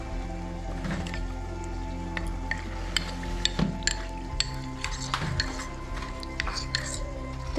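A spoon stirs cornflour into warm water in a bowl, giving scattered light clinks and soft liquid swishes over a steady low background hum.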